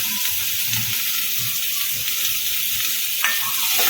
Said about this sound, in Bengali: বড় সাইজের একটা টমেটোকে কুচিয়ে নিয়েছি সেটা পুরোটাই আমি এর মধ্যে দিয়ে দেবো